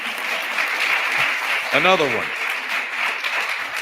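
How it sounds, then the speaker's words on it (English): Audience applause at a state inauguration ceremony, a steady spread of clapping with a brief voice speaking over it partway through. "Let's give them a round of applause for that."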